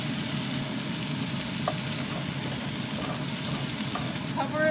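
Corn, peas and carrot stir-fry with garlic and ginger in a hot pan, a loud, steady sizzle throughout with a few faint clinks of stirring near the end.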